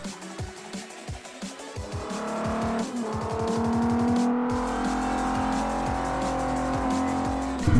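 A Nissan Skyline GT-R SpecV laps the Top Gear test track in Forza Motorsport 4, its engine revving up through the gears and then holding a loud steady drone while the tires squeal through an oversteering corner.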